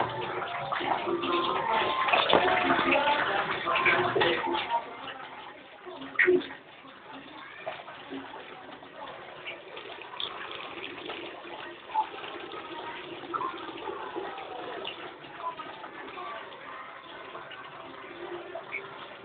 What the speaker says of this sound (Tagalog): Yan po yung tubig, umaapaw.